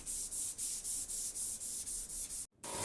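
Rhythmic sanding strokes on lacquered wood furniture, about ten steady back-and-forth rubs close up, ending in a brief pause before a final stroke.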